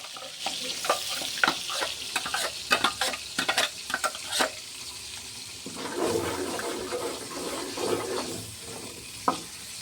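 A spoon scrapes and stirs ground green masala paste in hot oil in a pan for soybean keema, rhythmic clattering strokes at first, then a softer continuous sizzle.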